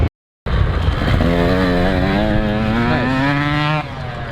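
A motorcycle rides past close by during riding practice, its engine note climbing in pitch as the throttle rolls on, steady and loud for a few seconds before cutting away, with wind noise around it.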